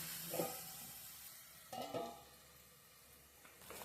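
Chopped tomatoes sizzle softly in a pan of broccoli curry, with a quiet steady fry and two short bursts of stirring, faint and close with no talk.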